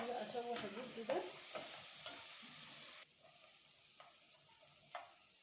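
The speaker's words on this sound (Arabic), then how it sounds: "هبتدي بقى اشوح الرز ده" Washed, unsoaked basmati rice stirred and sautéed in a pot, crackling sizzle with scraping stir strokes, louder in the first half then softer with occasional spoon taps.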